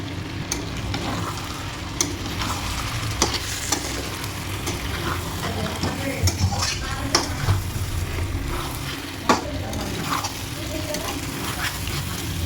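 Spices with ginger-garlic paste sizzle in a pan for chicken tehari while a spoon stirs them, the frying hiss steady and moderate with sharp scrapes and clicks of the spoon at irregular intervals.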